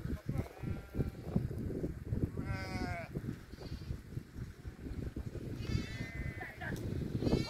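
A flock of sheep on dry land bleats repeatedly, several wavering calls rising above a busy background of shuffling and murmuring voices, some bleats close and clear, others softer.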